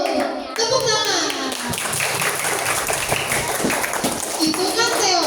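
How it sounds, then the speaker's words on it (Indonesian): Schoolchildren at an anti-bullying and hygiene session clap together in a dense burst of hand claps, with children's voices and chatter mixed underneath throughout. "Tepuk tangan."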